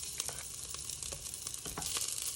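Chopped garlic sizzles and crackles steadily in hot cooking oil, with a dense, hissing fry and small pops throughout, close and alone with no voices.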